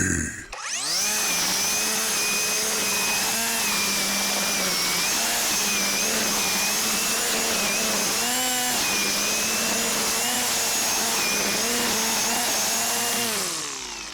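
A Dewalt 60V cordless string trimmer runs at high speed cutting grass and edging, a loud sustained whine with wavering pitch as it bites into growth, starting abruptly and cutting off at the end, with no talking.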